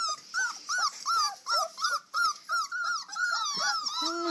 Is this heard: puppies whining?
yes